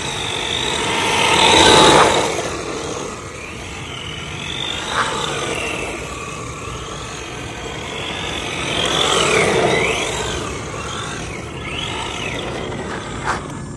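A small Traxxas 4Tec RC drift car drives and slides around with a whiny electric motor that rises and falls in pitch as it speeds up and slows, plus scuffing tire noise, at moderate distance with no talking.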